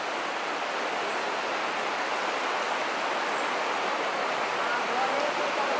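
Steady rushing water fills the space, a continuous broadband roar like water pouring over steps, cascading inside Stopića Cave in Zlatibor, Serbia, with no voices heard.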